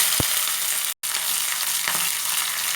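Green chillies hiss and crackle loudly in hot oil with popped mustard seeds, a dense steady sizzle with a brief stir clink near the start and one short cut partway through.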